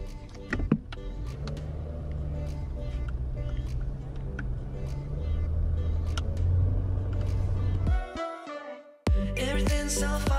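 A car being driven, heard from inside as a steady low engine rumble and road hum that holds for several seconds, then drops out abruptly near the end before briefly returning.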